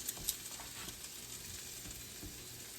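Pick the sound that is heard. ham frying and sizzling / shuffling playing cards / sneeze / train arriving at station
ham frying and sizzling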